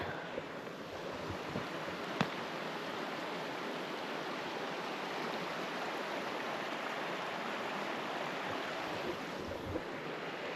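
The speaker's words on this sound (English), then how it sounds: "Check out this little creek." A small creek flows along a moose-country hiking trail, a steady broadband rush of running water, close and continuous, with no voices.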